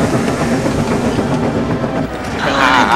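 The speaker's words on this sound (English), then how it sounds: "The trucks hurtled down the line." Runaway fuel wagons hurtle down a railway line, a steady rolling rumble with rhythmic rail clatter, loud and close throughout, rising slightly toward the end.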